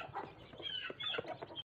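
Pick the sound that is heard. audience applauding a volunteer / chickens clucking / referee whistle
chickens clucking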